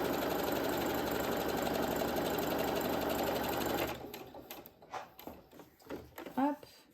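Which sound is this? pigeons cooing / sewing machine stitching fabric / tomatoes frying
sewing machine stitching fabric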